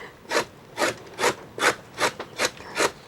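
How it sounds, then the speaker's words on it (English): A cassava root being scraped to remove its skin, seven rhythmic rasping strokes at an even pace, close and clear with no talk. "we have to scrape this cassava root. We scrape it out, take off all the skin."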